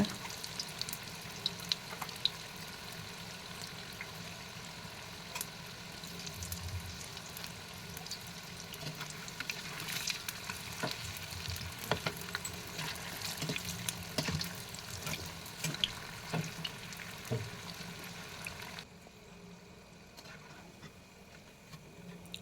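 Wheat flour bonda batter frying in hot oil, a continuous soft sizzle with scattered crackles and pops, fairly quiet and close, ending with a quieter stretch as the frying noise thins out.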